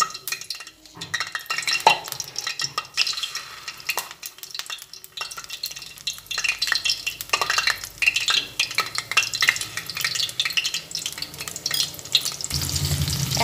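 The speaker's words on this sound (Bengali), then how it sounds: "তেলের মধ্যে দিয়ে ভেজে নিচ্ছি।" Pieces of young jackfruit frying in hot oil in a kadai, a continuous crackling sizzle with bursts of spattering and occasional scrapes of a utensil against the pan.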